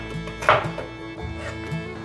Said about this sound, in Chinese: 把红萝卜切成粗条状